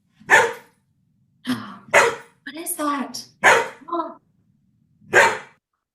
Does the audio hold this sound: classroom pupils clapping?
no